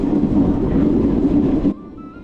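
Inside an AC chair-car coach of a train running slowly through a wooded stretch near Thrissur, a steady low rumble and rolling noise fills the first part, then drops abruptly to a quieter hum.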